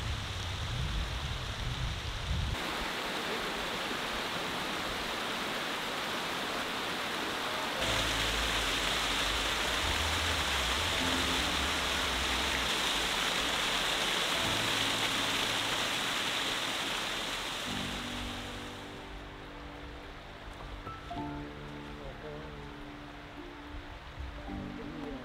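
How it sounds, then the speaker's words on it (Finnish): A mountain stream on a remote hike in Padjelanta rushes steadily, a broad, close hiss of flowing water that holds for most of the stretch before easing a little toward the end. "Purossa menee vettä."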